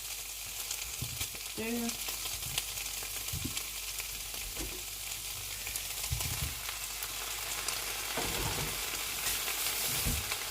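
Onions and potatoes fry in a pan with a steady, soft sizzle and occasional light clinks, fairly quiet, with a brief spoken word.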